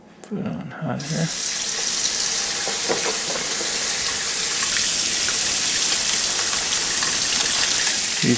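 A tap turns on after a brief clatter and hot water gushes steadily into a sink, loud, close and continuous, with a faint voice early on.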